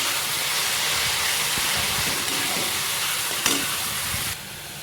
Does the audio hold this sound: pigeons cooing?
no